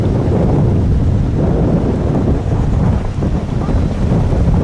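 Strong wind roars steadily across an open beach, buffeting an inflatable boat on the sand with constant loud low rumbling gusts and microphone wind noise throughout.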